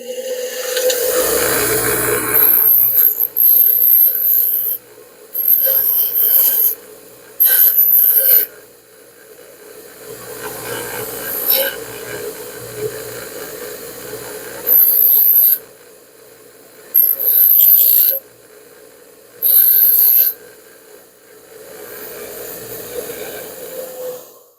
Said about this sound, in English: I'm going to go to the bench grinder here.